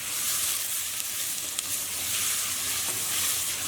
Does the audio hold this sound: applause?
no